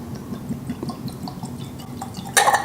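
Nikka From The Barrel whiskey poured from a screw-top bottle into a glass: a soft, brief liquid splash that swells near the end over a quiet room hum.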